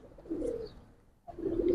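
A big female Giribaz pigeon coos close by, two soft throaty pulses separated by a brief pause.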